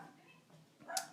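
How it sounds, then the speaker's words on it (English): A dog barks once, a short, sharp and fairly faint bark near the end, heard from somewhere in the house over low background hum. "my dog is barking"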